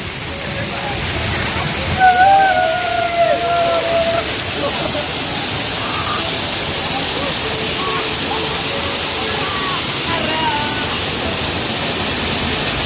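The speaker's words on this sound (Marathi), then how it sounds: "वरतून पाण्याचा फ्लो बघा केवढा भारी आहे" Steady, broad rush of falling water fills the whole clip, with some faint tonal chirps and voices mixed in over the roar.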